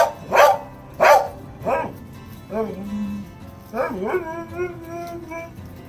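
Deaf dog barking and then letting out long, drawn-out howling whines: three sharp, loud barks followed by wavering, emotional cries, close by.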